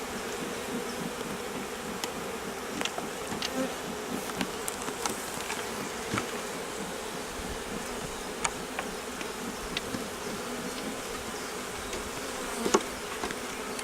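Bees hum steadily around an open beehive in the woods, a dense continuous buzz close by with small clicks and taps from handling the hive, no speech.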